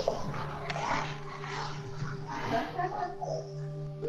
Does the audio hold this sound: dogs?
yes